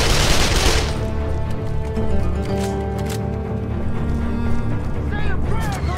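Rapid automatic gunfire from the Call of Juarez: The Cartel video game, with dense bursts of shots under shouted voices.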